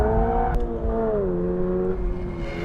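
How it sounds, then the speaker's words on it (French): Toyota GR86 engine revving hard up toward an 8500 rpm cutoff, a loud close tonal howl that climbs and dips through gear changes, heard alone without talk. "Le moteur chante pas mal, hein, 8500 tours avant que ça coupe."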